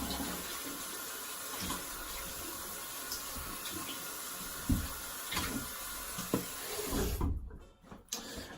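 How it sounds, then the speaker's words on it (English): A tap runs steadily into a sink while something is rinsed during a shave, a close, constant rush of water with light splashes that stops abruptly near the end. "I'm just gonna rinse and I'll be back."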